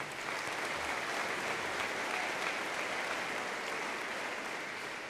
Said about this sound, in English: let's give a round of applause for these students